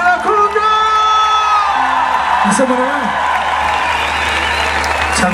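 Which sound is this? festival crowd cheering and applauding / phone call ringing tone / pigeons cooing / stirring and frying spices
festival crowd cheering and applauding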